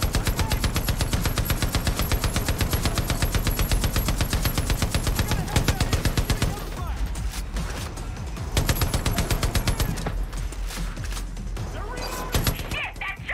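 Sustained automatic gunfire in the video game Far Cry New Dawn, a loud rapid stream of shots that breaks into choppier bursts and impacts partway through.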